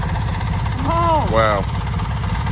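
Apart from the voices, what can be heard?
1970s Haulmaster mini trike engine firing up, cast iron cylinders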